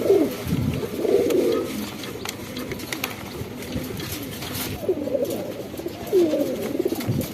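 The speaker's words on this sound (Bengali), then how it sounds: "এই যে আরেক পেয়ার শাহজাহানপুরি।" Indian Shahjahanpuri pigeons coo close by in several distinct rolling bursts near the start and toward the end, set against quieter background noise.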